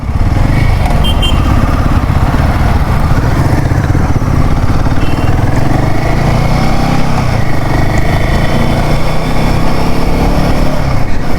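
A motorcycle engine drones steadily and loud while riding along the Mumbai-Goa highway, a continuous low rumble with rushing wind noise and no pauses.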